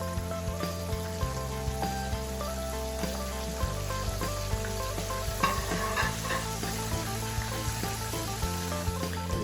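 King oyster mushroom fries, cut like French fries, sizzle steadily in hot oil in a pan while being stirred and separated, a dense, continuous, close-up frying hiss with faint utensil scrapes throughout and no talking.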